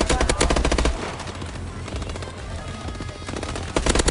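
Rapid automatic gunfire from the Exo Survival mode of a video game on the Detroit map, in dense close bursts at the start and end with a steadier busy battle din between them.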